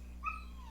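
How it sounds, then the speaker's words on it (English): A pet dog gives a single short, high whine indoors, brief and moderately faint over a low steady hum. "That's just my dog whining."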